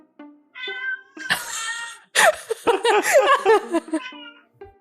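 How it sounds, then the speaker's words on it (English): A cat meows repeatedly at close range, the calls rising and falling in a string of whiny cries, with laughter and voices mixed in partway through. "we got a new mascot for the show. It's Maple the cat."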